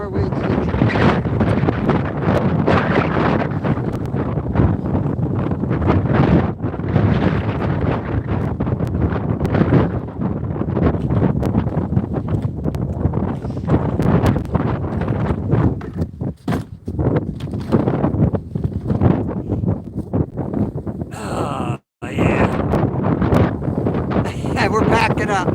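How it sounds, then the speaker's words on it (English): Strong wind roars and buffets the microphone nonstop, a loud rushing outdoor gust that barely lets up, with only one brief lull near the end. "so you guys could actually hear how windy it was"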